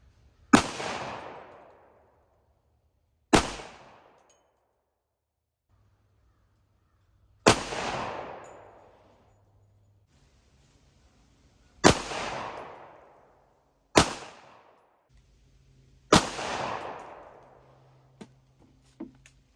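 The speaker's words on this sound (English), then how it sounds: "we're switching to the 10mm and we're shooting the wad cutter hand load right now" Six sharp 10mm handgun shots firing wadcutter handloads, loud and close with long decaying echoes, spaced irregularly a few seconds apart with no talk between them.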